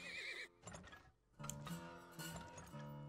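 A horse neighs in the video game Turmoil, a whinny followed by hoof clatter and clinking glassy effects, loud and close over game sounds.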